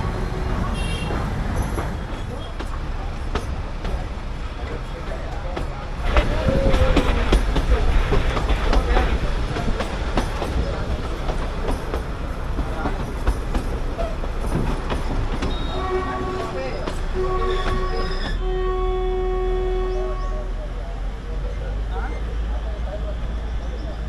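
The 110-year-old Bilimora-Waghai heritage narrow-gauge train rolls slowly with a continuous rumble and clatter of wheels on track, and a long horn tone sounds near the end while people talk.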